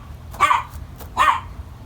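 A dog gives two sharp, distinct barks about three-quarters of a second apart, moderately close, over a low steady background hum, with no talking.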